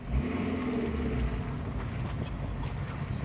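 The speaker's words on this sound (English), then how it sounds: "Now, how is that for acceleration?" A Fiat Stilo accelerates hard, its engine a dense low roar mixed with heavy wind rush, loud and sustained for the whole stretch.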